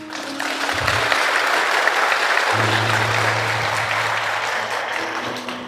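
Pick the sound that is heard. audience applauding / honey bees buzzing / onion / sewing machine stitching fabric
audience applauding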